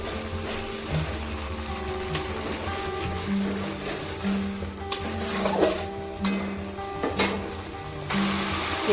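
Melon seed, cashew and poppy seed paste frying in a pan, a steady sizzle running throughout with repeated scraping strokes of a spatula and occasional sharp clinks against the metal.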